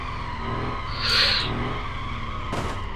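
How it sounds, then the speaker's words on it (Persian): A stuck truck's tires spin and squeal against the ground in a crash-test game, with a steady engine strain throughout and a sharp hiss of skidding rising in the middle and again near the end. "بچه کامیون زور میزنه هنوز حرکت کنه"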